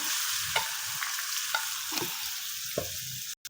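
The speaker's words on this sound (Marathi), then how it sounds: "मोहरी जिरं आणि हिंग हे एवढं टाकून घेतलं आणि आता कांदा परतून घेऊ आपण" Onion sautéing in hot oil on a pan with mustard seeds, cumin and asafoetida, a steady close hiss punctuated by soft stirring scrapes, with no voices.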